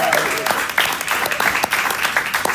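Town hall audience applauding panelists at a rally, a dense burst of clapping from a crowd, close and lively, with some voices mixed in.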